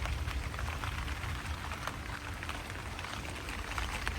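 Heavy rain patters steadily on tomatoes growing in 10-gallon grow bags outdoors, a dense, even hiss of drops with no pauses.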